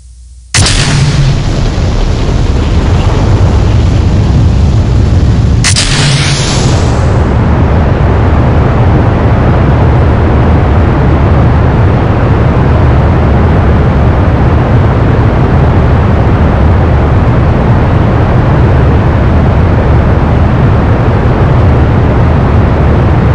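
A rocket launches in Kerbal Space Program: a sudden ignition blast, then a second burst, swelling into a loud, steady, roaring engine rumble that continues unbroken and close, with no voices.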